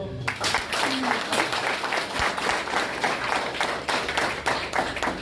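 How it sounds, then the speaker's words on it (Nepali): A group applauds for an Agniveer-selected recruit at a farewell gathering, steady dense clapping from many hands filling the room, with voices mixed in under the claps. "ल ताली गडाऊ।"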